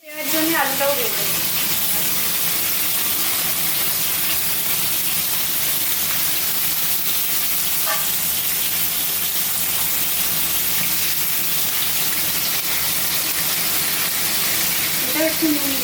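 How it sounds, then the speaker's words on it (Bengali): Potatoes frying in oil in a pan while cooking Bengali paneer masala: a steady, loud, dense hiss and sizzle that holds unbroken throughout, with a few brief stirring clatters near the start, the middle and the end. "দেওয়ার জন্য আলুটাও ভেজে নেব"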